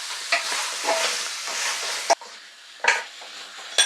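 Pieces of potimarron squash sweat in butter in a pan, giving a steady close sizzle, with a few sharp clinks of a utensil stirring against the pan.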